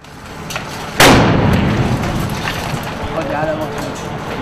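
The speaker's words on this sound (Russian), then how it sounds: "Боевики применяют гранаты." A grenade detonates in combat: a sharp, loud blast about a second in, followed by a long rumbling decay amid background noise and distant bangs.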